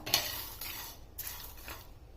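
Thandai spices and rose petals being dry roasted in a pan, heard as quiet scraping and rustling of a spatula against the metal, with a few soft clinks, no voices.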